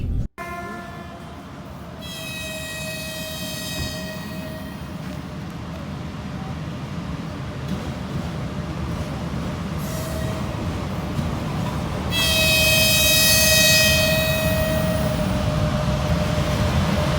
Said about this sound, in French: Ici, on est dans Transsibérien, dans le wagon